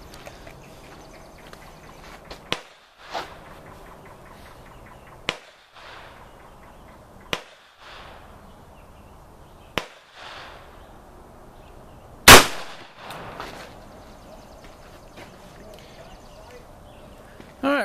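Sharp loud reports ring out at intervals, with the biggest blast near the end, as a .357 handgun fires into stacked wooden boards outdoors, and quieter background sound fills the gaps between shots.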